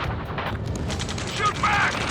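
Video game gunfire from Ace Combat 7: Skies Unknown, a dense, continuous fusillade of bursts under shouted combat voices, with loud, steady intensity throughout the short stretch.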